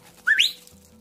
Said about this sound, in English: So the whistle for come by is.